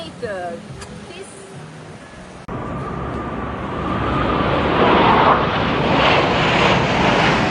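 A plane at the Fort Lauderdale Air Show 2025 approaches as a loud, swelling engine roar, rising after a sudden jump and holding steady, with a person talking over the start.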